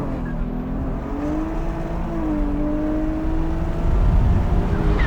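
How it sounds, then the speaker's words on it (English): A BMW 135 drives with a steady engine drone whose pitch rises and falls as it accelerates, loud and close throughout, with no voices. "Now this is the BMW 135. Pretty fun to drive, I gotta say."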